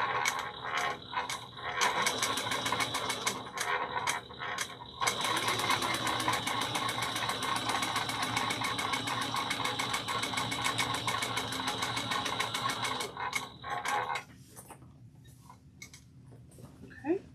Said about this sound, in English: I'm going to top stitch it at 1/8 of an inch.